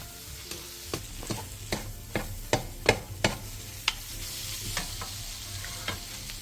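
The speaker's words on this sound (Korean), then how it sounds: "들깨가루 한 스푼을 넣고 들깨가루가 골고루 스며들 수 있게 1, 2분 정도 골고루 볶아주세요." A Korean side dish is stir-fried with perilla seed powder, giving a steady low sizzle broken by a regular run of sharp scraping stir strokes about twice a second, close and moderately loud.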